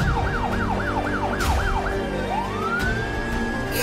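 A police car siren in Minecraft wails in rapid up-and-down sweeps, then shifts into a long rising tone, loud and continuous over a low engine hum.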